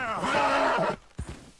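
A horse in Red Dead Redemption 2 gives one loud, close neigh lasting under a second, followed by a few soft thuds and quieter rustling.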